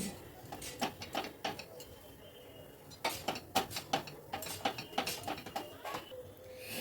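Fried spice mix and green peas being stirred together in a bowl, giving a string of close, irregular clinks and scrapes of a utensil against the bowl, with short pauses between bursts.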